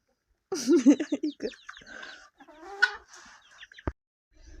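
A small hen clucks and chirrups close by in a run of short, uneven calls, with a sharp knock near the end.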